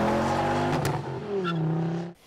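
A five-cylinder car engine revs loudly up close, its pitch rising and falling through a short burst before dropping away abruptly.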